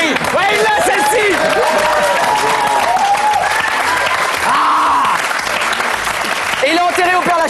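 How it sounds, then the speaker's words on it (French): Studio audience applauding on a French television show, loud and sustained clapping mixed with lively voices and exclamations over the top. "on applaudit"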